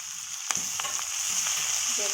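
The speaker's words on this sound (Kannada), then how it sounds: "ಈ ತೊಗಟೆ ಸೊಪ್ಪು ಇದನ್ನು ಹಾಕಿ ಸ್ವಲ್ಪ ಬಾಡಿಸಿಕೊಳ್ಳುತ್ತಿದ್ದೇನೆ." Togate greens sizzle steadily as they wilt in a hot pan with corn, a continuous frying hiss broken by a few sharp stirring clicks.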